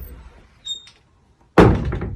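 A knock on a door in a house, heard as a short faint tap followed by a sudden loud, close thud with a booming resonance that rings on briefly.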